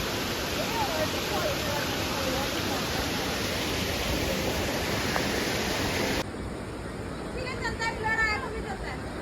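Water pours down a hillside as a waterfall near Ratnagiri, Maharashtra, a steady broadband rush that holds constant and close throughout, thinning slightly in the last few seconds.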